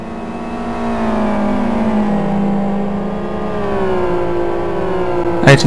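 GT1 race cars in a racing video game drone with sustained engine tones that slowly shift in pitch, loud and steady with no talk, ending in a brief sharp click.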